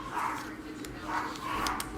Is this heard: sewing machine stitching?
no